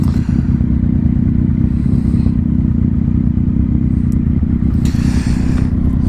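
A motorcycle engine revs hard as the rider pulls a wheelie on the Isle of Wight, a loud, close, continuous roar with rattling clatter and wind noise throughout.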